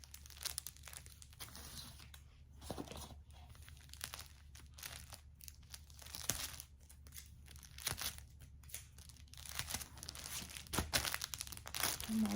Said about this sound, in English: And then what I do is I just tape over the side that's extra